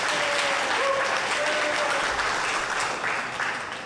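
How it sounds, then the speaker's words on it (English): A church congregation applauds during a worship livestream, a sustained, dense clapping that fills the room and stays steady before tapering slightly at the end, with a faint voice murmuring underneath. "give them a nice big round of applause"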